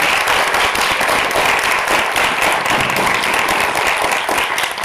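A large audience at a human rights forum held by Amnesty International applauds, dense sustained clapping at full volume filling the whole stretch without a break and with no voice over it.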